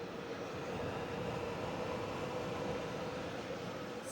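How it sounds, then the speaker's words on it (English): A steady, broadband whooshing drone of a solar generator's fan running hard, constant and fairly close, with no other sounds over it. "Really gonna get this fan going here."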